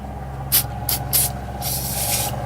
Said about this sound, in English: I'm gonna throw a little PB blaster on here